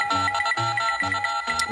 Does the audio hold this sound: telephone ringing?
yes